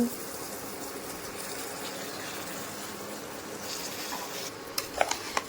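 Water pours steadily into a pot of washed rice with a continuous gushing rush, followed by a few light clinks near the end.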